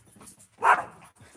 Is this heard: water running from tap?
no